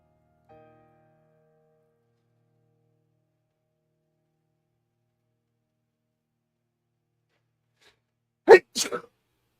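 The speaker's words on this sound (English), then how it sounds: "I sneezed the correct way" A single close, loud sneeze bursts out near the end after a long stretch of near silence, with a brief faint murmur early on.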